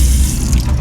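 A train restroom faucet runs steadily, water gushing loud and close into a sink for a brief moment.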